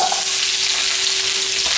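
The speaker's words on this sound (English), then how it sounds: "Give it a good stir fry." Vegetables stir-fry in olive oil in a hot pan for sweet and sour chicken, a loud, steady frying hiss and crackle with a faint hum running underneath.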